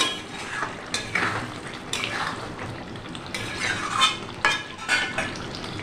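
A spoon stirs yogurt-marinated chicken in a pan, scraping and clinking against the metal in repeated strokes, with steady frying underneath and no one talking.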